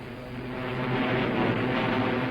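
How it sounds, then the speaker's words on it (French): WWII aircraft strafing refugee- and soldier-filled roads in France in 1940: a steady, loud engine drone that swells slightly, with a broad rumbling roar and no voices. "impossible d'échapper aux avions qui mitraillent les routes où se mêlent soldats et réfugiés"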